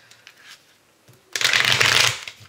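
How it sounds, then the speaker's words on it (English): Tarot cards are shuffled: a brief soft riffle, a pause, then a longer, louder burst of cards flicking together, close up. "Let's get one more good shuffle on here."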